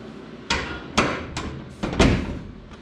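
A fiberglass door on a Foxbody Mustang is shut several times in a garage, each closing a hollow thud with a sharp latch click, spaced about half a second apart and heard up close.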